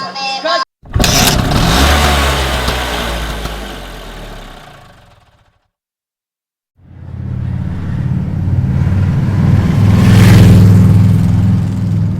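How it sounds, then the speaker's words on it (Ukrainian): A Kawasaki motorcycle engine starts up and revs loudly nearby. After a brief starter burst it roars, fades away and cuts out, then fires again and climbs into a strong rev, with people talking over the noise. "слухайте, як заводиться Кавасаки"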